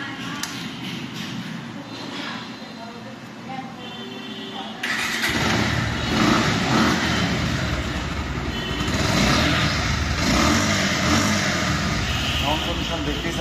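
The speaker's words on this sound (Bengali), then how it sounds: "বাইকটি এখন দেখাবো রানিং, এবং বাইকটির সাউন্ড কন্ডিশন কেমন আমরা দেখবো" A Bajaj Pulsar 150cc double-disc motorcycle engine fires up partway through and settles into a steady, close idle, with loud broadband rumble after quieter background noise before the start.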